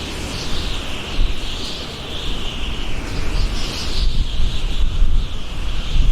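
Strong, steady wind roars and buffets the microphone throughout in an open area on a bridge at night, with a constant rushing hiss and gusty swells, no voices.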